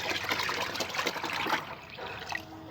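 Organic liquid plant food for hibiscus being mixed into about five liters of water, a steady close trickling and splashing of liquid that runs continuously and eases off near the end, with no talking.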